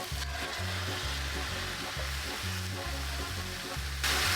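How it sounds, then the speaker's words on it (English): Tomatoes and onions sizzle in a pan for a homemade marinara sauce, a steady, close hiss of frying with a faint rhythmic hum pulsing underneath. "I love that sizzle."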